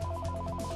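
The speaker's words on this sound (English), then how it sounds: "A ringing phone could lead the assailant to students." Telephone ringtone in a school setting, a brief electronic warbling ring with a rapid pulsing rhythm, close and clear with no voices.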